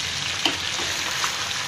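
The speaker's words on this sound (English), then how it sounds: "Haluin lang po natin" String beans and squash frying in a pan, giving a steady bright sizzle, with a soft scrape of stirring partway through.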